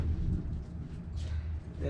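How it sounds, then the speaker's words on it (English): Low, rolling thunder rumbles in the distance, a deep sustained grumble with a faint voice over it. "I don't know if you guys can hear that thunder"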